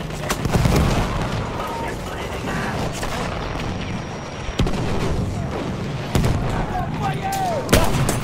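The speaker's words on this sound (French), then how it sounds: "Mitrailleuse ennemie" Enemy machine gun fire rattles in a war video game battle, mixed with heavier booms and scattered shots, while a voice speaks over the combat.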